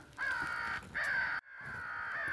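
A crow caws three times, each call a long, harsh, drawn-out note with short gaps between them, fairly close and clear with no other sounds.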